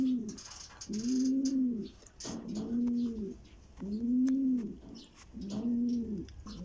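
Racing pigeons arrive at the loft during a derby race. Five rhythmic, evenly spaced coos sound close by, with no talking.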